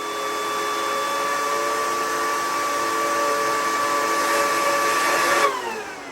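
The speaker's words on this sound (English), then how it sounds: "Hear the nice, lovely hairdryer sound?" A loud 2009 Xserve server cooling fan whines steadily with a high-pitched tonal whir over rushing air, then spins down near the end.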